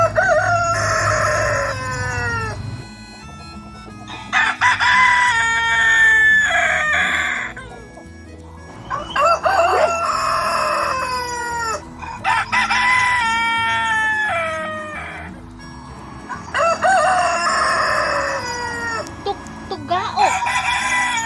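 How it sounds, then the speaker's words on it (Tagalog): A rooster crows repeatedly, five long loud cock-a-doodle-doo calls spaced a few seconds apart, with softer clucking and farmyard noise between them. "Mao kana ang tingog sa manok."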